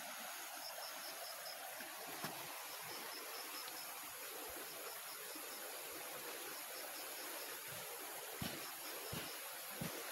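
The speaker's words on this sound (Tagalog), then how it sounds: "Tabing-tabing sapa lang po ito." A forest stream rushes nearby in a steady, even wash of flowing water, with a few faint knocks and clicks over it. No one speaks.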